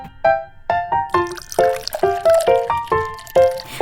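Lukewarm water is poured into a mug to make chocolate coffee, and the steady stream gives a rising, bubbling, gurgling pitch as the cup fills, loud and close.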